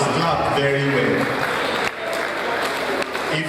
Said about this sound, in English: Let us put our hands together for FIRS.